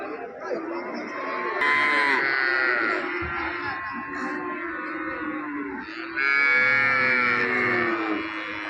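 Calves and cattle at the Karungalpalayam livestock market in Erode, with loud, drawn-out moos and bleating calls over crowd noise and background talk.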